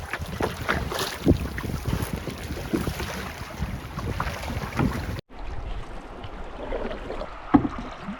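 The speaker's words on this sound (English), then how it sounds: "It's pretty windy." Gusty spring wind sweeps across a backcountry lake on a fishing trip, rumbling and buffeting the microphone in uneven bursts, mixed with scattered knocks and splashes around a small boat, with a brief cut partway through.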